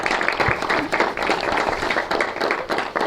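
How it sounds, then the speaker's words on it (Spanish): Audience applause after a talk on comics: a moderate, continuous patter of clapping hands from a seated crowd, fairly even throughout with no voices. "vamos a darle un aplauso."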